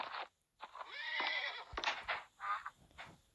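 A pony in a video game gives a loud, close whinny with several rising and falling neighing bursts, joined by hoof clip-clops.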